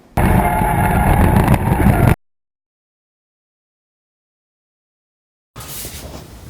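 A V8-swapped Mazda RX-7 FB pulls away to drift, its engine roaring loudly for about two seconds, then cutting out to silence before a rougher burst of engine noise returns.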